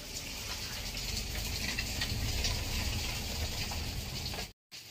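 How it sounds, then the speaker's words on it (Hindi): Heavy morning rain pours down as a steady, dense hiss that stays close and even throughout, cutting out for a moment near the end. "देखुन केन्ता वर्षा हो"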